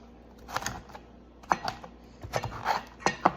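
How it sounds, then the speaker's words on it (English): Strawberries being cut with a Pampered Chef cup slicer, a few soft clicking chops in two clusters, close and fairly quiet. "I'm gonna cut them up with my cup slicer first, one direction, and then I'm gonna cut them again"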